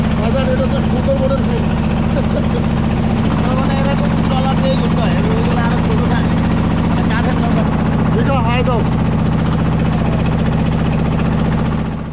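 A boat engine on a tide-dependent canal leading to Guliakhali beach drones steadily and loudly throughout with a low, even thrum, while a person talks over it.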